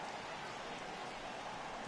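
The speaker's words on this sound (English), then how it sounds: "It's raining cats and dogs out there." Heavy rain pours down at a baseball stadium as a dense, even hiss of drops that stays steady and fairly faint throughout.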